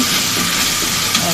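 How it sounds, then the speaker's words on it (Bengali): Ginger and garlic paste frying in a pan, a steady close sizzle and hiss running unbroken throughout, with no voices over it. "আদা বাটা দিয়ে দিচ্ছি। এগুলি ভালো করে কষিয়ে নিতে হবে। আমার রসুন আদা কষিয়ে আসছে।"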